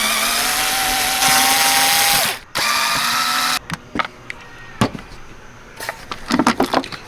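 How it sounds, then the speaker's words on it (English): A power driver whirs loudly to back screws out of the filter cover on a 2010 Honda Odyssey: two rising bursts with a short pause between, then scattered clicks and light clatter. "Just need a driver to get these 4 screws out of the corners."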